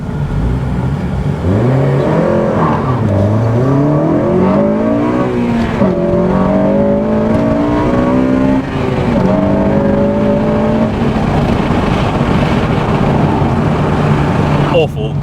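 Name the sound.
Honda Civic Type R FN2 accelerating from a flying start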